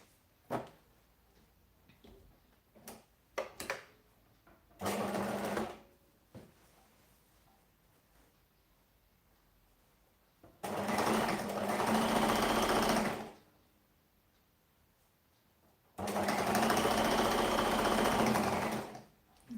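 Sewing machine stitching a binding along a side seam, with a few short clicks and taps, then a brief run and two longer fast bursts of loud, steady whirring separated by quiet pauses.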